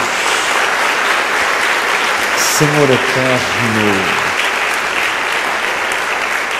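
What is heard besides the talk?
church congregation applauding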